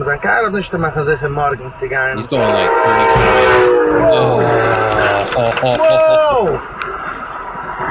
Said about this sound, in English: Train plows through that little car, spins it around, and then the car hits the railroad crossing sign.